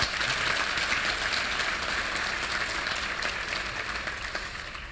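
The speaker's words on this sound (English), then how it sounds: "Can we please have a great round of applause for all of our sponsors?" An audience at a regional chamber award event gives the sponsors a sustained round of applause, a thick, even clatter of many hands that slowly tapers off.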